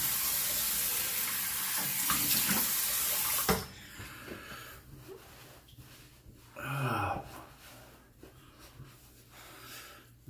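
Tap water pours into a sink in a bathroom after a shave, a steady hiss that stops abruptly partway, followed by quieter splashing and a short burst of rinsing, with no talking.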